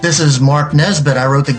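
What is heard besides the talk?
None of the usual background noises is heard.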